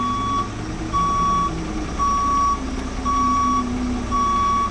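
A Class B truck backs up with its reversing alarm beeping in a steady repeating rhythm, about five long beeps sounding loud over a low engine rumble.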